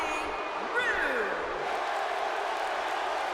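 Arena crowd in the WWE 2K17 wrestling video game roars steadily in California, with some whoops and a swell near the start, a broad continuous cheer filling the whole stretch without a break.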